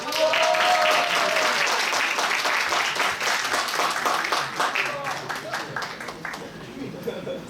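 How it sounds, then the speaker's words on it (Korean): Large school chapel audience applauds to welcome a guest speaker: dense, loud clapping from many hands that gradually thins and fades, with some talk mixed in. "큰 박수로 환영하겠습니다"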